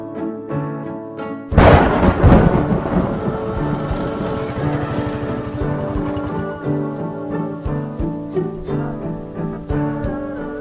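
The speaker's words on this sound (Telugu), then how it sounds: "చూడు వర్షం కూడా పడుతుంది." A sudden loud thunder crash from a rainy film scene breaks in over a sustained musical score, then rumbles and decays while faint rain-like patter continues beneath the music.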